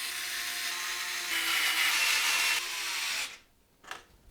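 A steady whirring of an electric screwdriver driving screws to fasten a motherboard into a be quiet! Shadow Base 800 FX PC case, running continuously at close range before stopping, followed by a brief faint clink.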